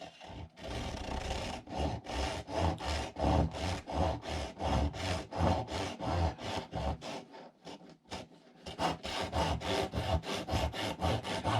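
A hand saw cuts small bits off a wooden toy car in quick regular back-and-forth strokes, loud and close, with a short pause partway through before the rasping rhythm resumes.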